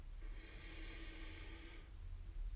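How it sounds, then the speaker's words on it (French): A slow, deep breath drawn in through the nose during a relaxation exercise, a soft airy inhale lasting over a second and then fading into quiet. "Je vous propose de faire une grande inspiration par le nez,"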